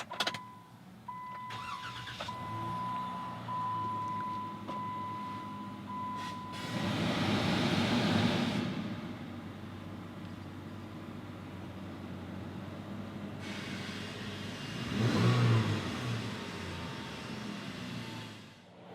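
A 2017 Jeep Wrangler Unlimited Sahara Smokey Mountain Special Edition starts up with a short crank, then idles steadily nearby, with a louder rev swell around the middle and another brief surge near the end.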